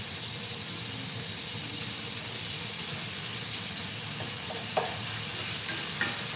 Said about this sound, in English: this has been frying very well on one side, so we're going to flip it